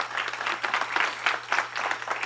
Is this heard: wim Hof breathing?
no